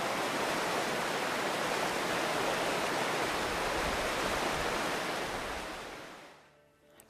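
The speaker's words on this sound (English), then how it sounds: "the rivers flow and tumble their way from west to east toward Lake Michigan" Wild river water in Wisconsin flowing and tumbling over its bed, a steady full rushing wash held at even loudness, then fading out toward the end.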